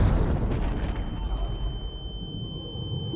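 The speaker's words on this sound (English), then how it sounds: "unless an explosion just happened" An explosion leaves a heavy, rumbling roar that slowly dies away, followed by a steady high-pitched ringing tone, loud and close.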